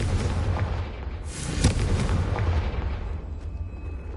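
A Confringo blasting spell explodes in a Harry Potter video game: one loud, booming burst swells and then rolls away into a rumbling tail, with no voices over it.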